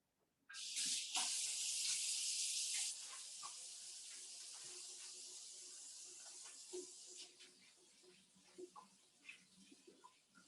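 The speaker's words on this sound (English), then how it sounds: "Let me wash my hands really quick." A kitchen tap runs for hand washing, starting with a strong hissing gush that softens after a few seconds into gentler splashing and dribbling close by, with faint clinks.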